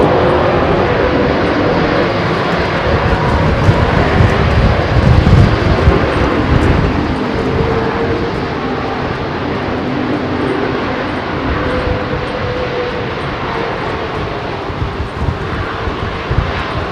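An airliner departs from runway 27L at London Heathrow, its loud broadband jet roar building to a peak and then holding steady as it powers down the runway, with no voices.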